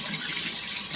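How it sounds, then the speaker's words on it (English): Lukewarm tap water runs steadily from a faucet into a sink while soapy hands are rinsed, a continuous close hiss and splash with no talking. "you want to wash off all the water, all the soap,"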